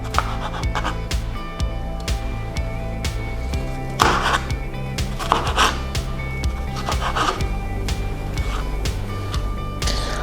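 A knife slices tomatoes on a cutting board, producing a series of soft, irregular thuds and scrapes close by, with steady background hum throughout.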